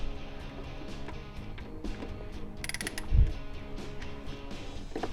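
Ratchet with a 14 mm deep socket breaking loose a bolt on a Miata NB during a turbo install, with rapid close ratchet clicks, a brief sharp knock as the bolt gives, and more clicking after.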